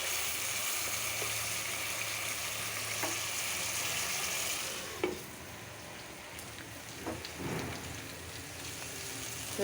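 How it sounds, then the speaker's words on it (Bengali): Pieces of big rui fish sizzle steadily in hot oil in a pan, a loud dense crackling hiss with a few soft stirring scrapes and clinks, no talking. "একটু মাছটা কষানো হোক"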